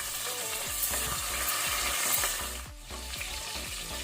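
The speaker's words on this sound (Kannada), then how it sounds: "ಗ್ರೀನ್ ಚಿಲ್ಲಿ ಮೊದಲಿಗೆ ಅದನ್ನು ಸ್ವಲ್ಪ ಕಲರ್ ಚೇಂಜ್ ಆಗೋ ತನಕ ಲೋ ಫ್ಲೇಮಲ್ಲಿ ಫ್ರೈ ಮಾಡ್ಕೊಳ್ಳುವ" Green chillies frying on a low flame in a cooker pot for prawn biryani, a steady close sizzle with rhythmic stirring scrapes repeating about twice a second, no talking.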